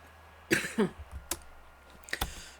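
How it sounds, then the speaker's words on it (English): A man gives a couple of short, close coughs in a quiet room, followed by a few faint clicks. "just had a bit of a cough there"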